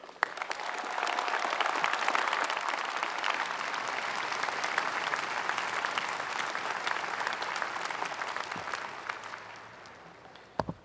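An audience at a university commencement breaks into sustained, loud applause to welcome speaker Ken Burns, a dense wash of clapping that holds for about ten seconds before tapering off.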